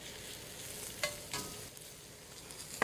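Mushrooms sautéing in an even layer in smoking hot olive oil, a faint, steady sizzle with a couple of brief clicks of a utensil against the pan, heard alone without talk.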